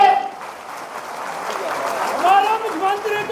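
A crowd at an outdoor political rally stage in Bihar breaks into sustained, dense applause, a steady wash of clapping with a voice rising over it now and then.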